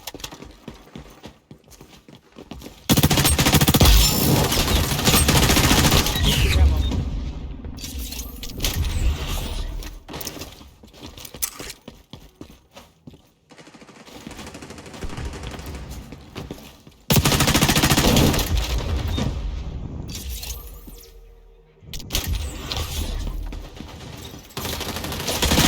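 Video game gunfire in loud, sustained bursts of rapid shots that come in long waves, broken by quieter gaps.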